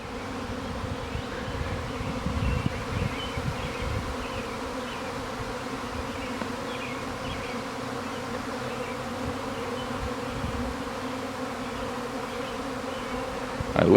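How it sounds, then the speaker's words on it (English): A swarm of thousands of bees buzzes steadily in the open air outdoors, a dense continuous hum with individual insects drifting nearer and farther, moderately loud throughout with no talking. "Okay, these bees are swarming."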